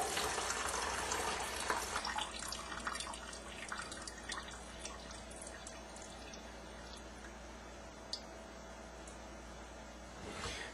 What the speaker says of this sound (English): So I'm going to pour that water off.